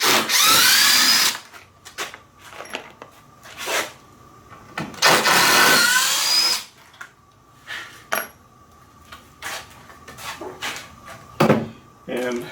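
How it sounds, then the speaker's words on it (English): A power drill bores into a wooden louvered garage door in bursts: two long loud runs, then several shorter whirring pulses between quieter pauses with faint clinks, fairly close. "Got 3 more to drill."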